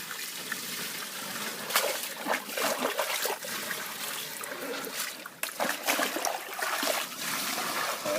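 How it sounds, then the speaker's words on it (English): Loads of water poured over a freshly caught fish lying on an unhooking mat at a fishing lake swim, a steady splashing trickle with brief louder gushes throughout. "throw loads of water on it"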